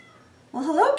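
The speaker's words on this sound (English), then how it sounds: "Well, hello, kitty. Can you hear my kitty?" A single short, close cat meow rises and falls in pitch after a brief quiet moment.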